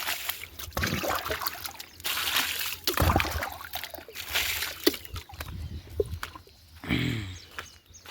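Water splashes and sloshes in short bursts as something is rinsed, with brief pauses between the pours, close by.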